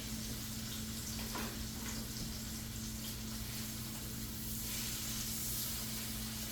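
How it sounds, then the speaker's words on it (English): New York strip steaks sear in a stainless steel pan, giving a faint, continuous hissing sizzle with a low steady hum beneath and no talking. "So we're just trying to get a sear going on both sides."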